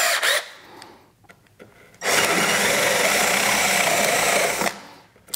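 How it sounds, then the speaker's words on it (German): A drill with a Forstner bit bores into wood in one steady, loud run of about three seconds, after a few faint clicks and a short whir. "Ein Forstner Bohrer hat im Gegensatz dazu eine umlaufende Schneide und mit dem könnt ihr auch am Rand bohren."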